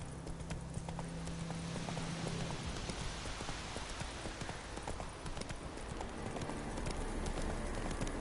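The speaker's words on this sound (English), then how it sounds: "Vesemir's horse." Horse hooves clip-clopping in The Witcher 3 video game, a brisk, steady rhythm of hoofbeats over a constant wash of rain, with a low tone fading out in the first few seconds.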